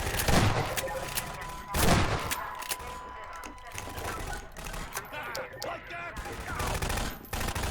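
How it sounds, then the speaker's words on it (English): Gunships in a VR video game fire dense, rapid bursts of gunfire with short breaks in between, mixed with other game noise while a person talks over it. "the gunships even give you breaks in between shooting"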